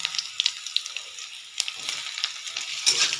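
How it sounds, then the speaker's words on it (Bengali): Chopped onion goes into a pan of garlic already frying and turning reddish, producing a soft, close crackling sizzle with scattered pops and stirring scrapes, no voices. "এবার আমি পেঁয়াজ কুচিগুলো এটার মধ্যে দিয়ে দেবো।"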